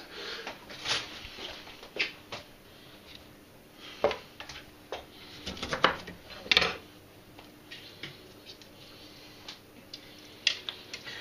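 A knife chops grated lemons on a board while ginger beer is made, giving sparse, sharp, close taps at an irregular, unhurried rhythm against a quiet room.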